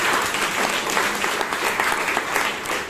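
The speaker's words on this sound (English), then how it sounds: "please give a huge round of applause" Steady, dense applause from a sizable crowd at a Toastmasters meeting in Bangalore, many hands clapping continuously at full volume with no pauses or voices breaking through.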